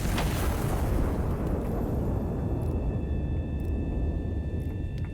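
A heavy artillery gun in the Iron Nest video game fires a high-explosive shell: one loud, booming blast at the start, then a long rumbling decay with faint mechanical tones trailing behind.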